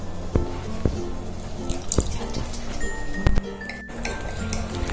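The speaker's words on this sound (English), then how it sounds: "Still we need to put some more water here." Water drips and splashes into a bowl of clay dough being mixed, amid soft clinks and wet mixing sounds, with a faint thin trickle near the middle.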